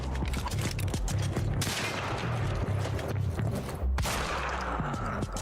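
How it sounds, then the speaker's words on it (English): Heavy pistol fire in the game Quantum Break, with loud, dense, repeated shots and mechanical clatter filling the whole stretch and only brief dips between bursts, with no speech. "Heavy pistol is really good. That was most of the heavy pistol doing all the lifting there."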